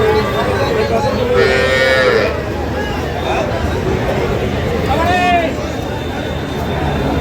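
Dairy cows of a local deshi breed, sold with calves at the Kaharol cattle market, moo loudly twice in long drawn-out calls. A steady hubbub of crowd chatter fills the market throughout.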